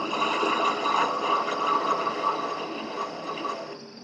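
A grinder fitted with a small wheel attachment runs steadily through a grind, a close, continuous high whine with slight fluctuations, easing off near the end.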